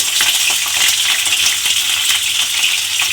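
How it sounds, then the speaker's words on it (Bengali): Pointed gourd peels sizzle steadily in hot oil, a bright continuous hiss of frying with faint crackles, close and even for the whole stretch. "এবার এই খোসাটা আমি এই তেলের মধ্যে দিয়ে দেব।"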